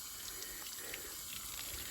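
An opened tap in a hillside setting pours water in a steady, full rush with a faint spattering texture, continuous and fairly close for the whole stretch, with no voices.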